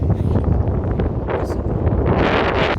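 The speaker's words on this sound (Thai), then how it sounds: "ลมแรงไปนิดนะจ้าวันนี้" Strong gusty wind on the coast of Källö-Knippla island, a loud buffeting rush battering the microphone in uneven surges throughout.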